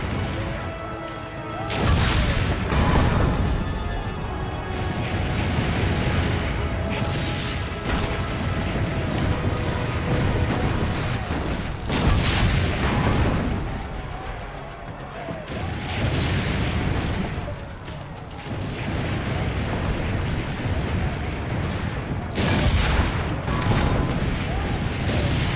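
Cannon fire from a siege in Assassin's Creed Brotherhood: heavy booms and crashes repeat over a constant loud battle din, while game voices speak over it.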